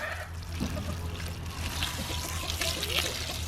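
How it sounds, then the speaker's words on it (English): Water from a garden hose pours into a chicken feed container to soak the feed, a steady close splashing trickle with bubbling and gurgling throughout, fairly loud, with a low hum underneath. "Then I fill it up with water"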